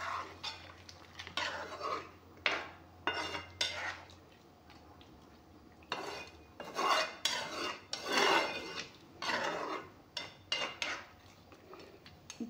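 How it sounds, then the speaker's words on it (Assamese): Tea being stirred in a pot, intermittent metallic scraping and clinking of a spoon against the pot in short irregular bursts, close and fairly quiet with pauses between. "অলপমান লাৰি দি ল'ম।"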